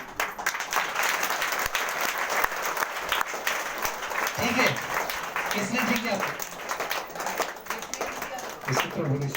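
Loud, dense clapping from a church congregation at a Sunday prayer service in Mahpur Kaithaliya, sustained throughout with a voice talking over it.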